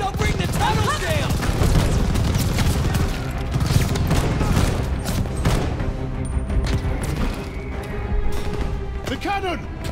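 Artillery cannon fire in a Call of Duty Vanguard battle for Berlin, with heavy booms and rapid gunfire bursts booming densely throughout, loud and close, while voices shout over the barrage.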